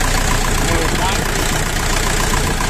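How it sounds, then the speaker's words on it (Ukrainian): A 40 hp mini tractor engine idling nearby with a steady, loud, rhythmic knocking chug that runs unbroken throughout. "Ну, зразу відчувається ритміка роботи двигуна."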